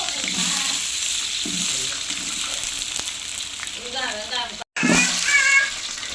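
A large batch of onions, about 1.5 kg with cinnamon and cardamom, sizzles and fries in a pot for an Eid special biryani. A steady crackle and hiss runs throughout, with stirring scrapes and a voice talking over the cooking.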